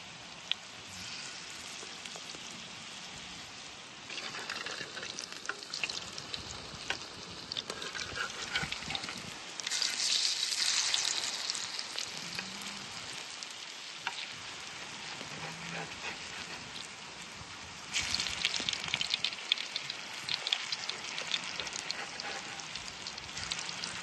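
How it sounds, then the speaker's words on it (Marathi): Continuous sizzling and crackling of millet-flour coriander fritters frying on a hot flat griddle, a steady hiss that swells louder in a couple of spots, with occasional faint noises. "ह्या तव्यातच तळायची बारी आली"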